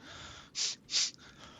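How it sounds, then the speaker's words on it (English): Two quick, sharp sniffs, close to the microphone, break a quiet room background. "I don't know if my sniffing will come over the microphone."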